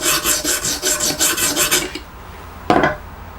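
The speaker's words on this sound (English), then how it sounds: "Just very gently remove that burr." Knife edge on an Exduct E0931D sharpening system gently rubbed to remove the burr: about nine quick, even rasping strokes close up, then a pause and one final short scrape, with no talking.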